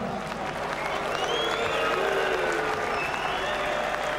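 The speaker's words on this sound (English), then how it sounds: "Ladies and gentlemen, a round of applause for Nicky Cook." Boxing crowd applauds Nicky Cook after the Ricky Burns fight, a steady wash of clapping and crowd noise throughout, with faint voices underneath.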